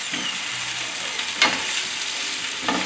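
Fresh spinach sizzles in a pan of oil with Taiwanese sausage for an omelette, a close, continuous hiss broken by a few sharp stirring scrapes.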